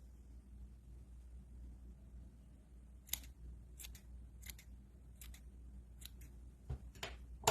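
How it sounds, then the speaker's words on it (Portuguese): Scissors snip the uneven yarn ends of a crochet pompom for a two-colour beanie: about half a dozen crisp, close cuts in the second half, spaced roughly half a second apart, over a faint low hum and no talk. "aqui depois é só você aparar as pontinhas que ficaram tortas"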